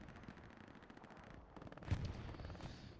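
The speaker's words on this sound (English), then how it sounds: "Here's the gunshots." Distant gunfire and explosive thuds on the Omaha Beach battlefield in Hell Let Loose, a dense rumbling clatter with a heavier blast near the two-second mark.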